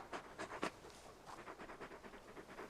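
Torgal, the large dog companion in the Final Fantasy XVI video game, pants in quick, soft rhythmic breaths, close and fairly quiet, with a few slightly louder gasps and no talking.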